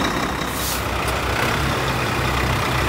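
A tractor hauls a tipped-over truck out of the mud, making a loud, continuous roar of engine noise and rumble that fills the scene without letup and without voices.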